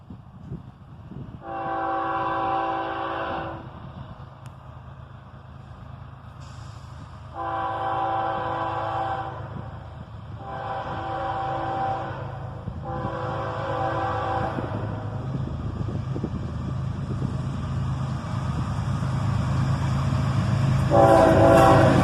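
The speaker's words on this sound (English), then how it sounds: "A quick horn salute, and then this pair of ES40 DCs is out of here southbound" A pair of ES40DC freight locomotives sounds its horn in four long blasts separated by pauses, while the rumble of the passing train builds steadily louder underneath, ending with another horn.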